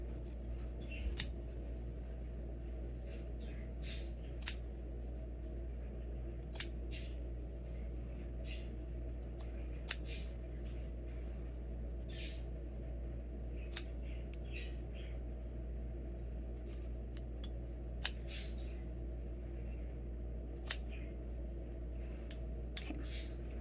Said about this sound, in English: I will cut into these corners, but I will cut up to the seam but not through it.